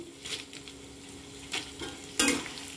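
Groundnuts frying in hot oil in a pan for mango pulihora, a soft continuous sizzle with a few brief stirring scrapes, close and fairly quiet, no voices.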